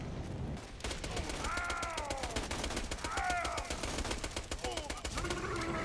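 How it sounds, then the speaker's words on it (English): Rapid, continuous submachine gun fire in Borderlands 2, a dense stream of sharp shots running nearly the whole time, mixed with game effects and a voice speaking over it. "I really like the shot, this submachine gun, dude."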